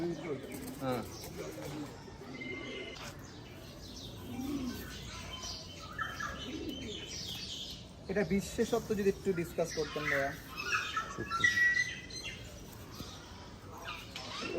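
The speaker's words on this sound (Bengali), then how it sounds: "আমাদের কাছে এখনও যে কবুতর আছে উপরে" Pet pigeons kept as a hobby coo and chirp repeatedly nearby, with an occasional flutter of wings, while people talk over them.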